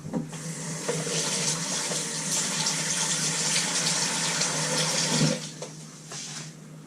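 Water from a groundbait mix for roach, bream and carp fishing is poured away in a steady gushing splash lasting several seconds, ending with a final slosh.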